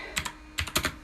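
Clicky keystrokes on a computer keyboard come in short separate bursts: a pair of taps, a pause, then a quicker run of several presses, close and fairly quiet with no voices.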